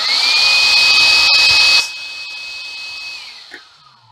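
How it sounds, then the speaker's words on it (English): An electric air pump of the kind used to inflate lilos and inflatable beds whines loudly and steadily, then switches off and its motor pitch drops and fades as it spins down. "This is the kind of thing that is commonly used to pump up lilos and inflatable beds, inflatables, and so on."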